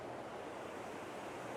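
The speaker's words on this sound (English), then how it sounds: "I'm pointing towards the noise of the waterfall" A steady, broadband roar of a waterfall in an autumn landscape, heard from nearby as an unbroken rushing wash with no pauses and no voices.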